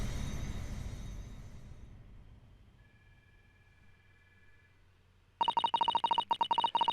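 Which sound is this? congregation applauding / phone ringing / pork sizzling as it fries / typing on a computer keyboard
phone ringing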